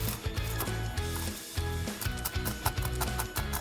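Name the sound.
crushing almonds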